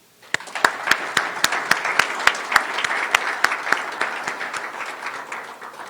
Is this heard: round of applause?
yes